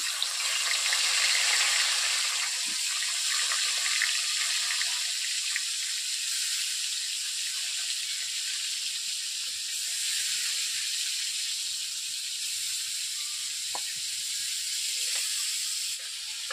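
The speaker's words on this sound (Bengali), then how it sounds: "কড়াইতে আমি প্রথমে তেল দিয়ে দিয়েছি মাছগুলোকে ভাজার জন্য" Pangas fish pieces fry in hot oil in a wok, giving a steady, close, bright sizzle that holds at an even level throughout with no voices.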